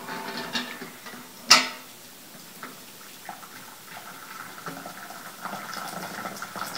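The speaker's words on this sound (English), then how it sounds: "you pour the hot water in the bowl" Hot water is poured quietly into a bowl, with a sharp clink near the start and a soft, steady trickle afterward.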